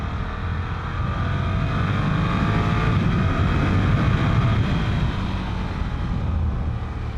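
A 2020 Ducati Scrambler 1100 Pro motorcycle engine pulls hard under acceleration, a loud, steady, close-up roar with rushing wind noise that holds for several seconds without any talk.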